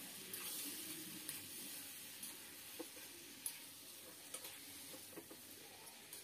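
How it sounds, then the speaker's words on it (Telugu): Dried fish pieces fry in hot oil with a steady, low sizzle and occasional soft crackles and pops, heard alone at a quiet level with no one talking. "ఈ ఎండుచేప ముక్కలు ఫ్రై అవ్వాలి"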